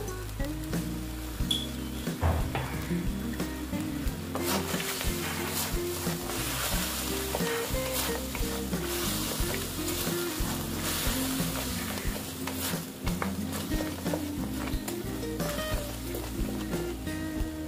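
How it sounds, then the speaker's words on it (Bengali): Potatoes and curd sizzling steadily in a pan for aloo dum, with continuous frying crackle and occasional stirring scrapes, close and even throughout. "নেড়ে চেড়ে নেব, কষিয়ে নেব।"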